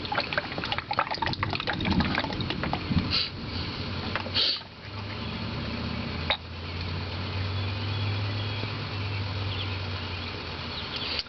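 Motor oil pours into the engine of a 2010 Cadillac SRX in a continuous close-up trickle and gurgle, holding steady for several seconds with a brief interruption partway through.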